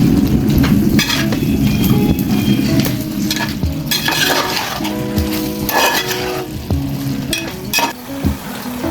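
Beef being stirred with chilli powder as it fries in a pan, loud sizzling under repeated scraping and clinking of a spoon against the metal, with irregular bursts of stirring over about nine seconds and no voices.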